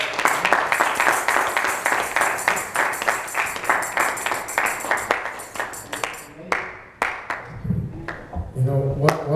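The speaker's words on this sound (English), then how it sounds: "Can we give a round of applause?" A church audience gives a round of applause, a dense wash of clapping that tapers off after several seconds as voices and other sounds come in at the end.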